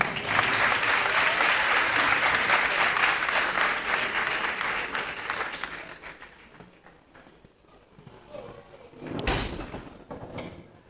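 Loud, dense applause from a school festival audience greeting a lycée on stage, sustained for about six seconds before thinning out, with a short renewed burst near the end.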